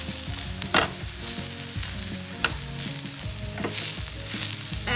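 Paneer steak with pepper and butter stirred in a hot pan: a constant close sizzle overlaid with clinking, scraping spatula strokes and a low rumbling hum, no talking.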